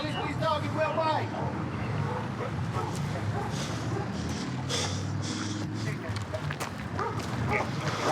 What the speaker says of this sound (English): Have that police canine.